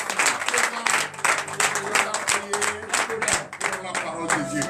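A congregation claps along rhythmically at a morning prayer service in Benin, with sharp, evenly spaced beats alongside voices singing or calling out.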